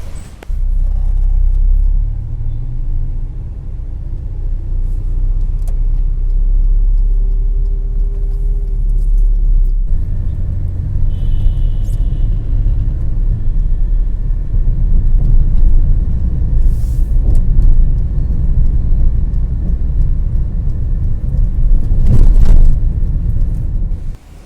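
Road traffic rumbles past continuously, with cars and other vehicles driving by nearby and their engines and tyres making a steady, fairly loud low roar that swells as some pass close, with no talk.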